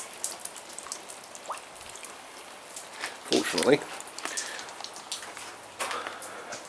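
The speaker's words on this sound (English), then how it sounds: "It's our first proper rain for 6 months." Steady rain patters on surfaces with scattered drips, fairly close, in Fuerteventura, while a voice briefly speaks partway through.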